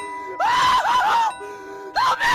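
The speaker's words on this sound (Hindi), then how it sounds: "तभी गुल्ली को एक जोरदार चीख की आवाज सुनाई देती है।" A loud scream rings out in a Gulli Bulli horror cartoon, two wavering, high, tonal cries, the first longer and undulating, the second shorter after a brief quiet gap.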